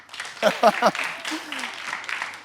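Applause from the audience of the Allahou Akbar Vacances semi-final show, a broad wash of clapping beneath a voice talking over the start, continuing at moderate level.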